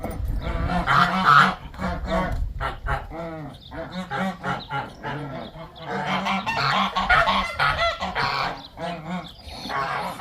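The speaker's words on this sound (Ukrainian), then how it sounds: "зараз зажене гусей" A flock of domestic geese being herded honks loudly and continuously, many overlapping calls close by with no pause.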